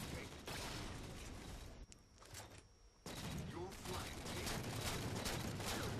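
DMR rifle fire in the Halo 4 video game during a close multiplayer match, heard as dense, loud bursts of shots and mechanical clatter, with a short lull in the middle and a commentator talking over it.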